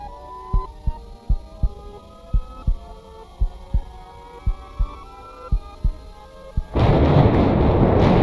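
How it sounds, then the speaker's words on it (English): Thunder in a Minecraft horror map: a long run of deep, regular booming thuds, evenly spaced like a slow heartbeat, followed at the end by a loud, sustained rumbling roar. "The thunder, yeah."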